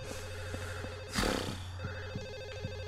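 A telephone rings in Silent Hill 4: The Room, repeated warbling trills over a low droning hum, broken by a loud burst of noise, with no talk.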